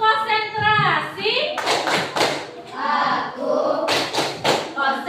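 Children in a classroom doing a tepuk konsentrasi rhythmic clapping game, sharp claps in patterned bursts mixed with chanting voices and a teacher speaking throughout.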